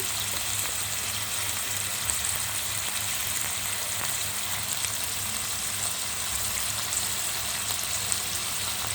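Ginger-garlic paste frying with chili, salt and spices in a pan for a kochur loti and chepa shutki curry, a steady, even sizzle running throughout at moderate level with no talking.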